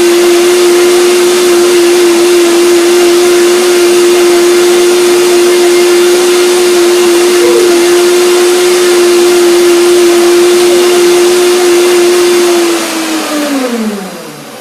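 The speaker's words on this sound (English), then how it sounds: "I will blend it one more time to make it really smooth." A blender runs steadily at high speed, loud and continuous, whirring through a sesame seed and coconut milk cream dressing before winding down near the end.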